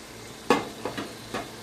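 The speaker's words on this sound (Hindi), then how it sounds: "इधर मैं मसाला भी भून रही हूँ" Masala spices sizzle softly in a pan for chicken biryani, with a few brief stirring scrapes, quiet and close, no voices.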